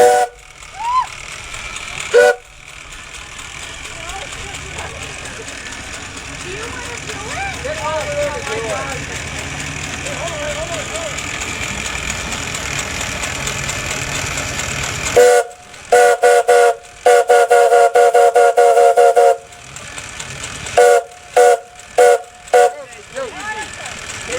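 A steam whistle on a steam engine at a St. Paddy's Day steam gathering at Gunny's Hall, blown in several sharp separate blasts near the end. Before the blasts, steady engine and steam noise runs under people talking.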